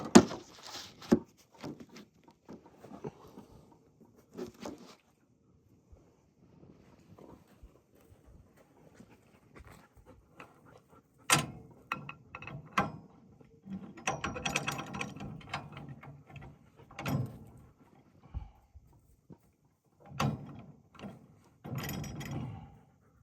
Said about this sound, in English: we're going to throw a socket on the crankshaft to see what we can do.